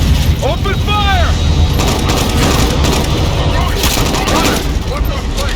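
Gunfire in a video game, dense cracking shots and booms layered over a loud, busy battle din with whistling effects, while people shout over the mix.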